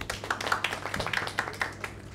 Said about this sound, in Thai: มโอ้เก่งปรบมือให้ตัวเองหน่อย